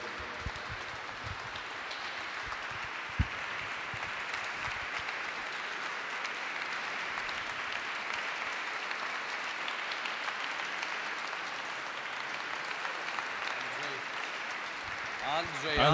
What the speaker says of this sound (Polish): Dominiko, Jurku, dla was oklaski.